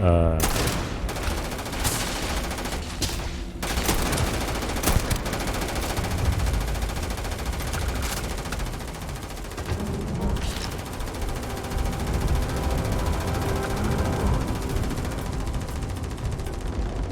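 Rapid automatic gunfire from the video game Starfield, a dense, continuous rattling fusillade with sharp bursts, loud and sustained throughout.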